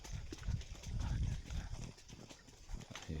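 Horses ridden on a rough rural road, a faint, uneven clip-clop of hooves close by with soft rustling and occasional murmured talk.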